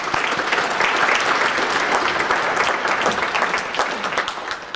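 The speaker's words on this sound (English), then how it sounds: "Let's give Derek another round of applause." Concert choir audience applauding a performer, steady crackling hand claps from a sizeable crowd that slowly taper toward the end.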